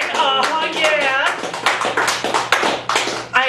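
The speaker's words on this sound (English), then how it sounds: "I'm going to have to do lots and lots of applause for our Sid Yiddish feature this evening" Scattered hand claps ring out at a poetry open mic night in a Chicago gallery café, mixed in with people talking loudly and fairly close by.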